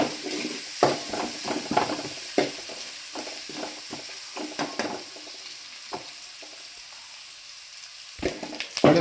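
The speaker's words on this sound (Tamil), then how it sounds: "கருவேப்பிலையும் சேர்த்து வதக்கி விட்றேன்" Curry leaves and garlic sauté in a pan for a fish head curry, crackling and hissing close up while a spoon stirs and scrapes in uneven bursts, the sizzle easing midway before flaring again.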